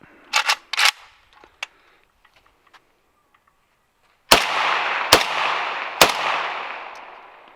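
AK rifle gunfire: a few sharp shots near the start, then after a quiet gap a sustained loud burst of rapid fire as the magazine is dumped, with three strong cracks standing out over a dense rolling roar outdoors.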